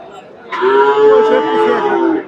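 A Friesian cross bull, about one year old, gives a single long, deep moo at a cattle market, loud and close, lasting over a second and a half after a brief quiet moment.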